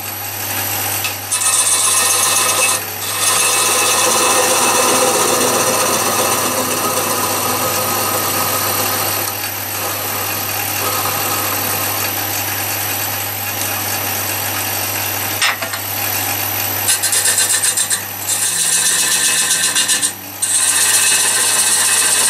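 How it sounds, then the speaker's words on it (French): Cherry wood bird feeder being faced on a lathe: the motor whirs steadily while the tool scrapes and rasps against the spinning wood, with a few brief dips in between. "Je vais pouvoir donc défaire mon mandrin. Donc, je vais dresser la face, améliorer le côté là."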